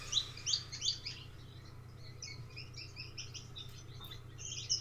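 A male Gouldian finch sings in an aviary, faint and somewhat distant, a thin string of high chirps and twitters over a low steady hum.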